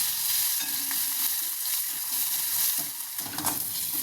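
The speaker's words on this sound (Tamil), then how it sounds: "உளுந்தப்பருப்பு போட்டுக்கலாங்க. பூண்டு போட்டுக்கலாங்க." Urad dal and garlic fry in oil with mustard seeds while making snake gourd poriyal, giving a dense, steady close sizzle broken by scraping stirs of a spoon in the pan.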